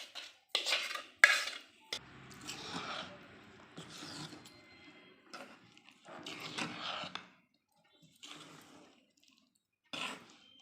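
Amla pieces being mixed with ground spices and tamarind for pickle: intermittent metal spoon scraping and clinks against a vessel, with wet squelching stirring between short pauses, close and fairly quiet.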